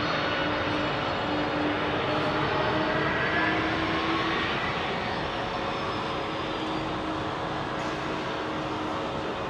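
A British Airways BAC 111 jet airliner departs Heathrow at sunset, a loud, sustained engine roar rolling steadily without pause.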